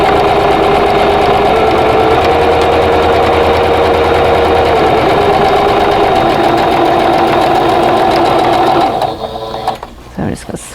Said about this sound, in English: So I'm just going to stitch a 1/4 inch away from the drawn lines on both sides.